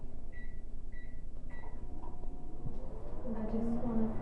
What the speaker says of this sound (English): You can do your microwave now.